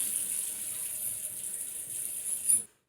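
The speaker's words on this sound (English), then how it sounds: "I start off by wetting my skin with like warm water" Warm water runs steadily from a bathroom tap into a sink, a close, continuous hiss that keeps going for a few seconds and then cuts off abruptly as the tap closes.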